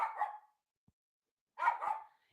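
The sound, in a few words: dog barking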